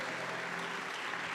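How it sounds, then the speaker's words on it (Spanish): A church congregation applauds during a Spanish-language sermon, a dense, steady wash of clapping that stays even and fairly loud throughout. "Vamos a dar fuerte ese aplauso."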